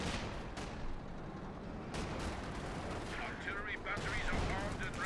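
Company of Heroes 2 battle sounds fill the clip with bursts of gunfire and machine-gun rattle over a rumbling wartime din. The shots are fairly loud and continuous, with a brief whistling streak near the end.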